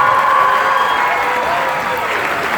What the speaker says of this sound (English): Another big round of applause for the band.